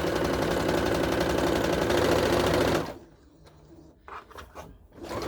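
A sewing machine runs steadily while stitching elastic into a fabric face mask, a loud close whir that stops partway, followed by a few faint handling clicks and rustles.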